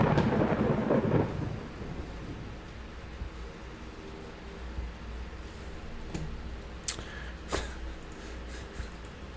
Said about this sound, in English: Was that thunder? Is it going to rain soon?